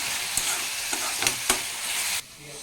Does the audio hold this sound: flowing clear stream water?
no